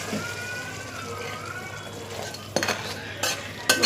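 Crab curry being served from the cooking pan into a serving bowl. A quiet stretch gives way to several sharp metallic clinks and scrapes of a spoon against the vessels near the end.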